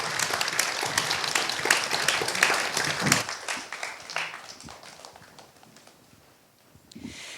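A seated audience claps after the opening talk of a literature week event, a dense patter of many hands that thins out and fades toward the end.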